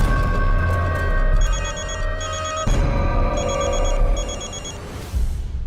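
A telephone rings with repeated bursts of electronic trilling tones over a loud low hum, the pattern recurring several times before breaking off near the end.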